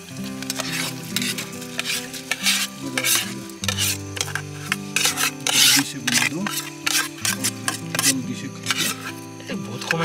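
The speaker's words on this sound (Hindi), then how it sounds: "अभी हमारी जो है प्याज भुन जाए फिर डालते हैं हमारी ये दाल और चावल" Onions fry in a pan while being stirred for dal rice khichdi at a cold-weather camp in India, with a continuous sizzle and scraping stir strokes up close.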